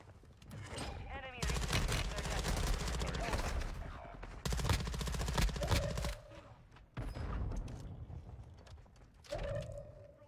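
Rapid EBR rifle fire in Call of Duty Warzone, loud, close bursts of dense gunfire separated by short pauses, with game mechanism clicks and a voice talking in between.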